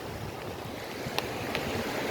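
Ocean waves breaking on Fort Myers Beach, Florida, at low tide: a steady, even wash of surf at moderate distance, fairly faint, with no voices.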